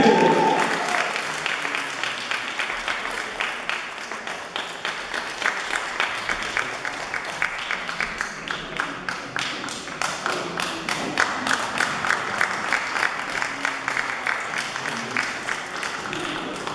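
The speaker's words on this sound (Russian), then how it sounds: "Аплодисменты!" Audience applause at a concert performance, a dense steady patter of many hands clapping that starts loud, eases slightly, then holds even for the whole stretch, with no voices over it.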